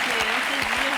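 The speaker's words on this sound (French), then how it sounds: "merci d'applaudir Soraya, mesdames et messieurs." Studio audience on a French television show breaks into applause, a dense, steady wash of clapping that fills the whole short moment at even loudness.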